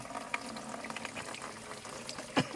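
Water runs from a tap into a bucket in an outdoor rural setting, giving a steady close splashing fill with a brief louder splash near the end. No one speaks.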